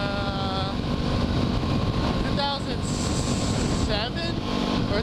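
Kawasaki Ninja 250 sport motorcycle with twin exhausts riding along a road, engine droning and revving under heavy wind noise, with a voice talking over it.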